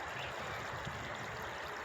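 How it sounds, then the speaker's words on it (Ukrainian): A river flows with a steady, soft rushing and trickling, faint and continuous with no other sounds. "Переїжджати приходиться через річку."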